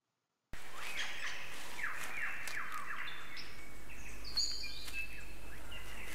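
Superb lyrebird of southern Australia singing alone in forest, a varied stream of loud whistles, trills and sharp chirps with mimicked calls, other birds and insects faint behind it.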